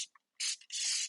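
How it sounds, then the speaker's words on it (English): Several short hissing bursts of degreaser from a trigger spray bottle onto greasy kitchen cabinets, one tiny spritz then two longer sprays close to the mic. "I am going to spray this stuff on here."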